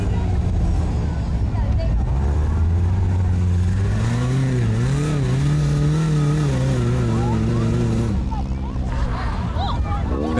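A 4x4 trial truck engine at a New Zealand trials event in Feilding revs hard and wavers as it climbs a hill, loud and close throughout, with voices talking over it.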